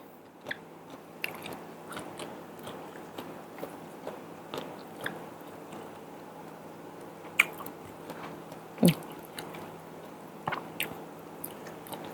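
Crisp fresh vegetables eaten alongside Thai fermented pork give soft, close biting and crunching sounds at irregular intervals, with a couple of sharper crunches and no talking.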